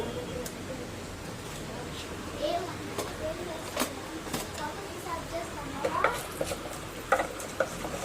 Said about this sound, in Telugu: ఇప్పుడు ఆయిల్ వేడెక్కిందండి ఇప్పుడు పోపు దినుసులు వేసుకుందాం వన్ స్పూన్ ఆవాలు వన్ స్పూన్ ఉద్దిపప్పు వన్ స్పూన్ పచ్చినిపప్పు